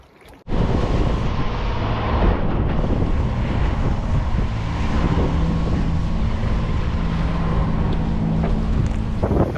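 Boat engines idle and run at Prudhoe on a windy morning of northerlies, a steady low drone that holds throughout, close by and mixed with heavy wind buffeting on the microphone.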